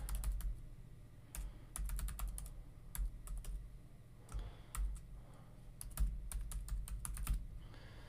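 Bursts of close computer keyboard typing, rapid key clicks in short runs separated by brief pauses, over a low background hum.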